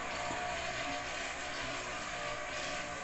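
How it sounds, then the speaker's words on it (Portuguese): A small generator hidden aboard a motorized boat runs with a steady, dense engine drone and mechanical hiss, loud and unchanging across the whole moment with no talking. "Olha, aqui tá escondidinho um gerador"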